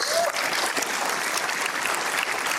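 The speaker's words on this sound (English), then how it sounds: "So I'd like one more round of applause, please." Enthusiastic audience applause at a unity dinner, a dense, steady burst of many people clapping close by, with a faint voice briefly over it near the start.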